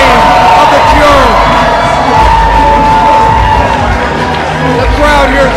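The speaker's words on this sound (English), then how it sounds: "The crowd here at Superkick'd absolutely erupting." A wrestling crowd at a Superkick'd chain rope match roars and cheers loudly and continuously, a dense wall of shouts and whoops from a packed indoor venue that swells without pause.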